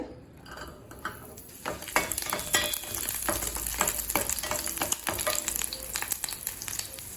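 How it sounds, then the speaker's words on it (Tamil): Garlic cloves and dried red chillies fry in oil in a kadai with a crackling sizzle that builds after a quieter start, dense with frequent spatters and occasional utensil clinks, close and fairly loud, no talking. "பத்து காஞ்ச மிளகாய் ஸ்லோலே வச்சு மிளகாய் கலர் மாறாத மாதிரி வறுத்துக்கோங்க."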